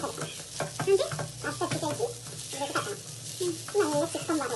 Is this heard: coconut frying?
yes